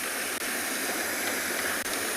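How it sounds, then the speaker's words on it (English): Chitwa Waterfall pouring into a drainage channel on a sunset safari at Tswalu, a steady, dense broadband rush of falling water that stays constant and fairly close throughout, with no voices. "Look at this, it's Chitwa Waterfall"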